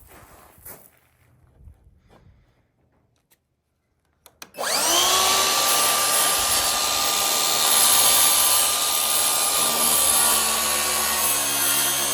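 A circular saw cuts a notch in lumber for a horse stall. It starts after a few quiet seconds of light handling noise, then whines loudly and steadily, close by, for the rest of the clip.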